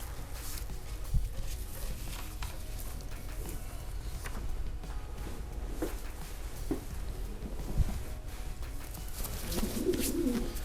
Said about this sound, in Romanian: Păi da, ce porumbel.